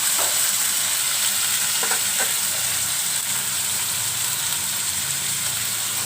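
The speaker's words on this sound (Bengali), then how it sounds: "এগুলো এখন টুকটুক করে ভাজা হোক" Chowmein ingredients fry in a pan with a loud, continuous, close-up sizzle and hiss, while a few brief scraping stirs sound near the start, with no voices.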